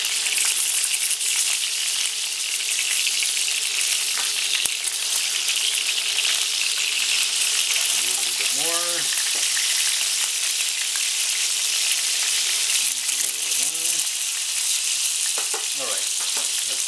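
Beef browning in a pan for a Greek stifado stew: a loud, steady hiss of sizzling fat fills the clip, with a few brief higher tonal chirps rising and falling partway through.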